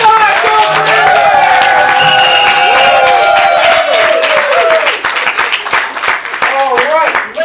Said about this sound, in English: big applause for both captains to the field